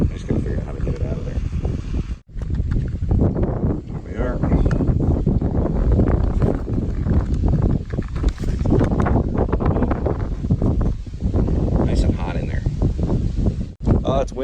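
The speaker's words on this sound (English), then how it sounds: "Oh, it's windy. Sorry about the wind." Wind gusts hard across the microphone at a cave campsite, a loud continuous buffeting roar with brief lulls, as people talk through it.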